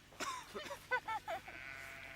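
Several short sheep bleats sound close by outdoors, a few quick calls in a row with brief pauses between them.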